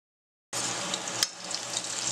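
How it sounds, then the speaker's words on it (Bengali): Potato pieces frying in a wok with salt and turmeric, a sudden close sizzle that starts after a brief silence and holds steady with a crackling pop partway through. "নুন হলুদ দিয়ে বেশ কিছুক্ষণ ভালো করে কিন্তু ভাজবো, একদম লাল লাল করে ভেজে নেব।"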